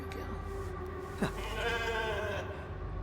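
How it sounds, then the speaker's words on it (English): A sheep in the video game The Alters bleats once, a wavering call at moderate level over a steady hum of background game ambience. "Can I pet the sheep?"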